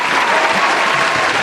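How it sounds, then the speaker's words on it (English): Loud, close applause from a small group, a dense and steady patter of many hands clapping at once for the whole brief moment. "Round of applause for you guys as Pats."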